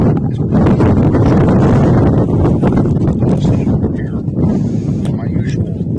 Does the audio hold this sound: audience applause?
no